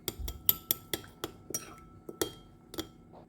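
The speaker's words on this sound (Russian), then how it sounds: "Теперь все хорошенько перемешиваю." A spoon stirring honey, salt, oregano, basil and black pepper in a bowl, with a series of close, distinct clinks against the dish at an uneven pace.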